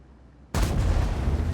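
A naval gun on the E77 warship fires in a naval video game, a single sudden loud blast after near silence, followed by a rumbling, booming tail.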